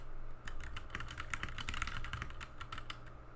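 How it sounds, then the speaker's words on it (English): Rapid typing on a computer keyboard while entering a terminal command on Ubuntu, a dense run of close, crisp key clicks in uneven rhythm over a low steady hum, with no talking. "We will do that by typing in this command"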